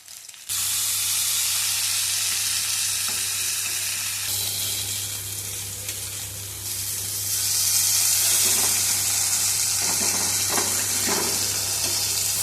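Anchovy fish frying in oil on a flat tawa: a loud, continuous, close sizzle and hiss that swells slightly partway through, with no talk.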